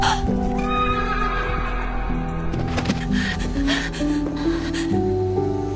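A horse neighs loudly and clearly over steady hoof clip-clop and snorting, the whinny rising and falling across several seconds in a historical Korean drama scene where a rider faints and falls from the horse.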